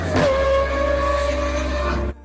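Lamborghini Urus exhaust giving one deep, sustained rev that holds for about two seconds and then cuts off abruptly, loud and close.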